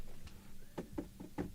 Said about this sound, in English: So if I tap my desk, can you hear this?